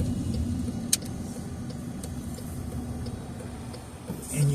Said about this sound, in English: there's a whole line of cars behind me, so I'm going to pull over and let them by me